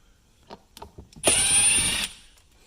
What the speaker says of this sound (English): Now you get your drill, get that screw off